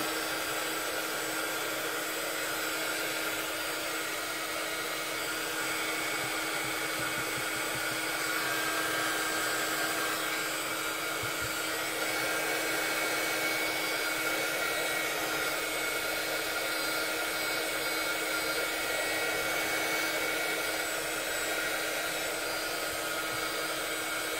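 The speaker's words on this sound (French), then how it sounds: "je vais venir sécher au heat gun déjà la première couche" Steady, loud whooshing roar of a heat gun blowing hot air to dry a first coat of paint, running continuously and close by with no break or talk.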